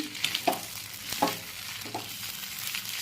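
Sweet corn chevda is stirred in a hot pan, a few distinct spoon scrapes and clinks over a low sizzle, with no voices.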